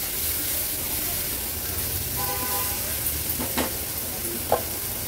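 Salted tomatoes being stirred in a pan while they cook, a steady sizzle with a few sharp scrapes of the spoon against the metal.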